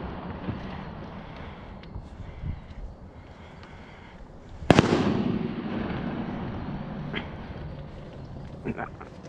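A shotgun fires during a mallard duck hunt at a preserve in Soperton, Georgia: one loud, sharp blast midway with a long rolling echo, over wind noise and occasional voices.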